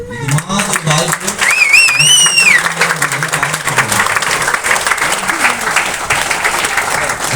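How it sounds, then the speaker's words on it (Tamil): An audience breaks into loud, sustained applause for the leaders at a gathering, clapping continuously close by, with a voice briefly audible over it. "அவங்களுக்கு எல்லாத்துக்குமே ஒரு நல்ல பாராட்டு கொடுங்க"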